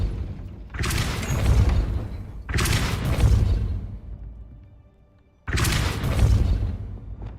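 Depulso force spell fired in Hogwarts Legacy: three loud, full-bodied blasts, each a roughly two-second surge of booming whoosh, separated by short near-silent gaps, with no voices.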